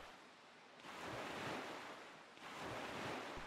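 Ocean waves from the video game Zelda: Wind Waker HD roll in as a broad, hissing surf, swelling in two loud surges over a constant windy wash.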